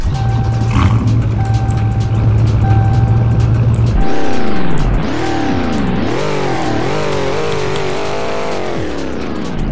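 A 6.2-liter V8 SUV engine in the Roblox game Greenville cranks over on a cold start with a low rumble, then catches and roars loudly, revving up and down several times before settling into a rough idle.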